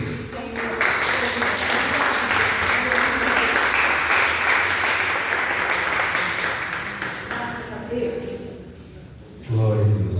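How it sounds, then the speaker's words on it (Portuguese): Congregation applauding in a church service, a broad sustained wash of clapping with a voice rising over it toward the end. "Recebemos o Senhor aplaudindo a Jesus Cristo"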